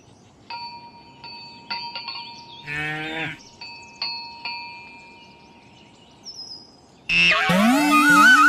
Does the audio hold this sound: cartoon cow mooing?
yes